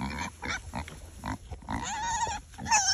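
A kunekune pig grunts in a farmyard pen near goats, a run of short rhythmic close grunts followed by a longer squealing, whiny call, with no speech.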